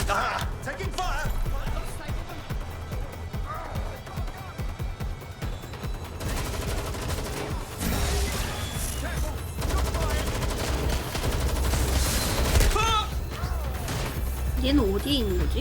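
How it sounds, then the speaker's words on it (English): Gunfire during a chase in the video game Watch Dogs Legion, rapid shots and crashes layered over a loud engine drone and game music, with voices talking throughout. "Target just pulled out a gun. Ah! Taking fire!"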